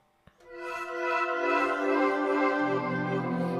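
Keyboard pad built from sampled Gibson acoustic guitar strings, a soft attack swelling into a sustained harmonic drone with a low note joining later, heard alone.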